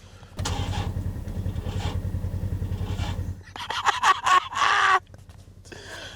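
A truck engine cranks with a rapid rhythmic churning for about three seconds, then catches and revs in loud bursts before settling, heard close by.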